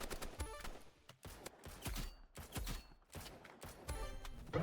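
Revolver gunshots fired in a shooter video game, a quick series of sharp cracks spaced roughly half a second to a second apart, loud and close over a busy game soundscape.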